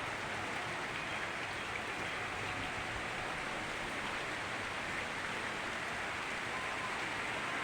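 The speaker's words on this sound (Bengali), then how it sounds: "আমাদের এখানে কিন্তু বৃষ্টি শুরু হয়ে গেছে" First monsoon rain falls steadily on tree leaves, a dense even hiss of drops with no pauses, close and fairly loud, no voices.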